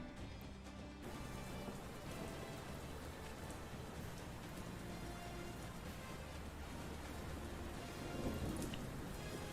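Steady rainfall with rumbling thunder in a college football video game, a dense continuous wash of falling rain that holds at an even level throughout, with no one talking over it.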